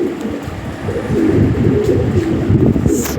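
Lahori pigeons in a breeding loft coo in a low, continuous murmur, several birds overlapping steadily and fairly close throughout.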